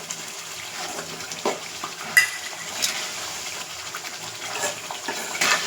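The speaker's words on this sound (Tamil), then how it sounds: "நல்லா ஊறுகாய் அப்படியே சுருண்டி அப்படியே எண்ணெய் பிரிஞ்சு வந்துடுச்சு" Homemade pickle cooking down in oil with ground fenugreek, mustard and asafoetida, stirred in a pan: a steady soft sizzle with scattered scraping strokes of a spoon, fairly quiet and close, no voices.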